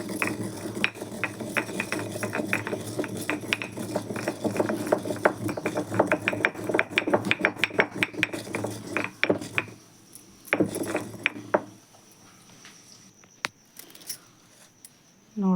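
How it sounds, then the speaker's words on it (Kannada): Cumin seeds are pounded in a stone mortar, giving rapid, irregular knocking and grinding strikes, close and clear, that thin out toward the end with only a few scattered hits. "ಈ ಕಲ್ಲಿನೊಳಗೆ ನಾನು ಇವನ್ನ ಜೀರಿಗೆ ಹಾಕ್ಕೊಂಡು ಸ್ವಲ್ಪ ಪುಡಿ ಮಾಡ್ಕೊತೀನಿ ನೋಡ್ರಿ"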